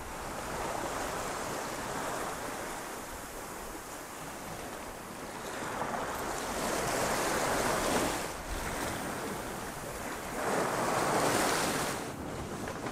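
Wind and waves around a cruising sailboat under sail on the Mediterranean, a steady rushing wash of water and wind buffeting the microphone, with gusty swells rising and falling, no voices.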